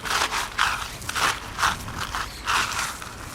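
Small hand shovel biting into garden soil for planting tomatoes: five or six close, gritty scraping crunches in a steady rhythm, each stab a short rasp, with no talking.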